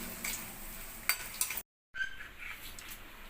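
Ingredients frying in oil in a pan while making gongura pachadi, a soft, quiet sizzle with a few light stirring clicks, briefly cutting to silence before the faint frying resumes.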